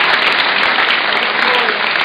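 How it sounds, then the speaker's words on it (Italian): Audience at an Italian political rally applauding, a dense, loud wash of clapping filling the whole two seconds without a break. "Un applauso a chi ha costruito questa Europa."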